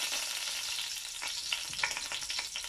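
Whole spices and curry leaves spatter in hot oil for a mince curry, with a steady close sizzle crackling into sharper pops and bursts toward the end.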